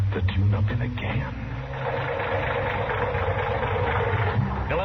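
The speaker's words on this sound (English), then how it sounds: "that engine of yours sounds like real tired iron" A worn, tired car engine idles at a filling station in an old Western radio drama, its low, steady rumble running under people talking.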